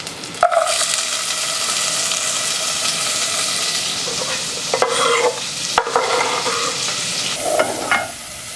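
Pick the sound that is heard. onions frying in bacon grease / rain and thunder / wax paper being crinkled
onions frying in bacon grease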